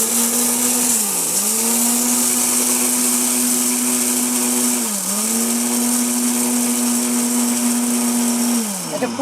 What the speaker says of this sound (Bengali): আমরা এখানে একটু সুইচটা অন করে দেই ঠিক আছে এই একটা ব্লেন্ডার